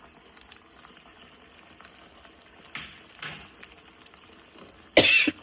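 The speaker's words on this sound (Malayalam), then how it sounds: "ഇനി നമുക്കിതിലേക്ക് ബീഫ് ഇടാം." Beef pieces drop into a hot pan for Kerala-style chilli beef, giving a few short sizzling bursts and then a louder sharp hiss, close up in a quiet kitchen.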